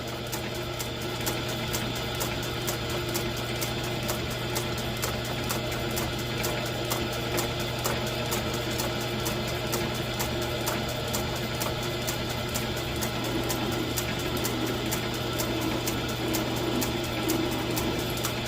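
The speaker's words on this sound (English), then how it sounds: "I'm going to finish with this drill bit" A drill bit boring a jet boat helm shaft, a steady mechanical whir running on without a break, an even grinding hum close by with no talking.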